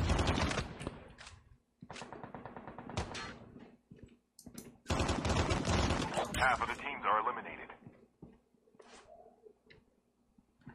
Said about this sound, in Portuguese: Por que tá atirando em mim?